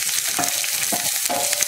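Oil sizzles steadily in a hot pan while chilli chapati ingredients with garlic are stirred, with periodic scraping strokes of a spoon against the pan.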